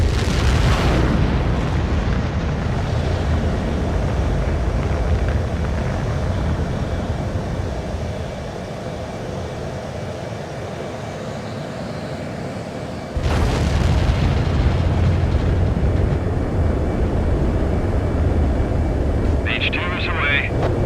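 An F/A-18 Super Hornet launches in the video game Ace Combat 7, with a loud continuous jet roar that dips midway then surges again with a sharp boom, while radio voices talk over it.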